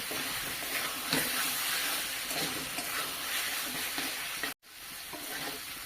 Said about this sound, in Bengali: আলু ফুলকপি দিয়েও আমি বেশ কিছুক্ষণ মশলার সঙ্গে ভাজা ভাজা করে নিয়েছি